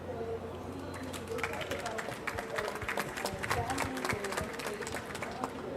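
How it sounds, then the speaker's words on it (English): Scattered applause from a conference audience after a panel discussion, a mix of claps building and rippling through a room over a steady background hum. "I would already like to give a round of applause to this wonderful panel"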